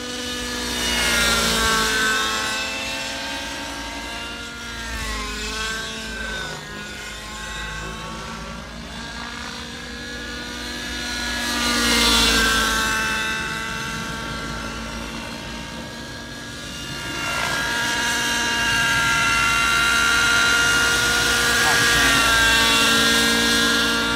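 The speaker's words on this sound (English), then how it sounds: "you could hear I got the engine running smooth and kind of cool on the rich side" Nitro engine of a Synergy N7 RC helicopter running rich and smooth, a loud continuous buzzing whine with rotor chop that swells and dips in pitch as the throttle and blades load up, steady throughout.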